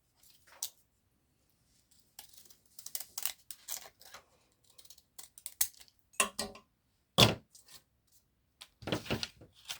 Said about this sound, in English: remembering to cut in the same direction, because these scissors, if you flip it over, will give you a different edge.